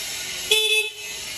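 A short, bright electric scooter horn, battery-powered, beeps once, about a third of a second, close up over a steady background hum.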